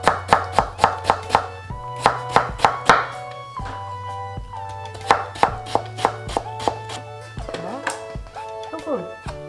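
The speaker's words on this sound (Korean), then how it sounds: "곱게 채를 쳐주시면 돼요" A knife finely julienning Korean radish on a cutting board, quick rhythmic bursts of chopping taps in rapid runs with brief pauses, close and crisp over a low steady background tone.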